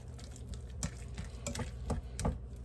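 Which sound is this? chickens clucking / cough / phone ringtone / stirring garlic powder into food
stirring garlic powder into food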